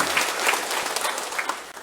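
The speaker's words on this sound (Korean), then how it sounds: "우리 박수 한번 칠까요?" A Catholic church congregation at Sunday Mass claps for newly baptized members, a brisk, continuous round of applause filling the hall at moderate volume.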